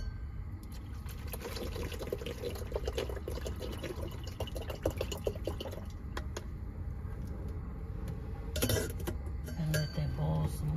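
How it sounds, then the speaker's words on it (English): Bottled water poured into a cooking pot inside a van, a faint, quiet trickle and splash with a few light metallic clinks and a louder burst near the end. "I'm gonna pour another bottle of water in here."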